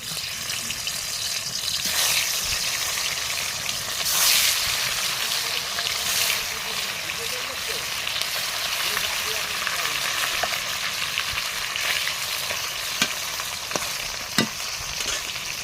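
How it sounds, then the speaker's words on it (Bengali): Fish frying in hot oil in a pan: a steady, loud, close sizzle runs throughout with brief crackles and spatters, no voices. "তেলটা খুব ভালোভাবে গরম হয়ে গিয়েছে, এবারে আমি মাছগুলো দিয়ে দেবো একটা একটা করে।"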